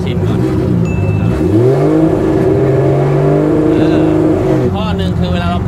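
Drift car at a practice session revving hard, the engine pitch sweeping up and holding at a loud steady drone before dropping and rising again, close by and continuous.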